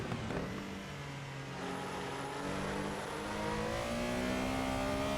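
A Porsche 911 Carrera RSR 3.0 engine revs and climbs through gears in Assetto Corsa, a continuous rising whine under a steady rumble.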